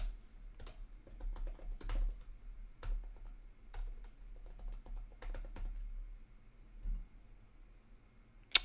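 An email and password are typed on a computer keyboard in quiet, irregular bursts of close, soft key clicks with short pauses between, ending on one sharper tap.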